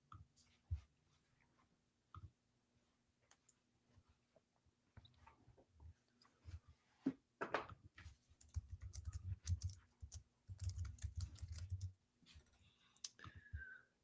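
Rapid computer-keyboard typing comes through in quick bursts of clicks during a live sports reaction stream, fairly faint and close, with dense clusters toward the end.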